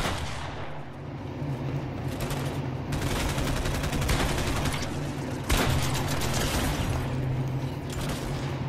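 Rapid bursts of gunfire from a Fortnite match fill the mix, with sustained volleys and a sharper crack near the middle, loud and continuous over game background sound, no voices.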